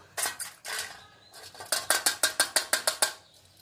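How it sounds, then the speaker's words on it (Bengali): Beetroot paste thinned with a little water is pressed through a metal kitchen sieve, giving a few scraping strokes followed by a quick run of about ten evenly spaced, close scratchy rasps of a spoon against the mesh. "এবার একটা ছাঁকনি দিয়ে ছেঁকে এর জুসটা বার করে নেবো।"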